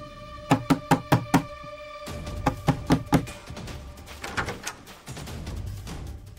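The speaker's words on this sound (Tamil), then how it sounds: "யார் கதவு தட்டுறது?" Knuckles rap on a door in a quick burst of five loud, close knocks, then a second shorter series of knocks follows over a muffled indoor background.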